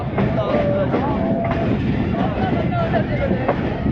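Restored Khushhal Khan Khattak Express train at Attock City Junction rumbles steadily with clattering wheels and faint squeals, accompanied by background crowd noise and some voices.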